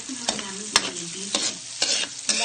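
Red onion and garlic for pork sisig frying in a pan, with a constant sizzle and regular clanking stirs of a spatula, about five sharp strikes, and no speech.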